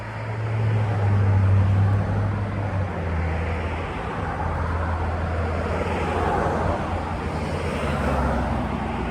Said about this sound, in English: Sorry about the noise of the cars.